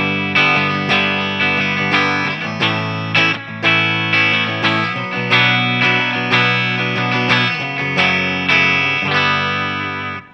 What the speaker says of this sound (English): So let's go with the bridge humbucker.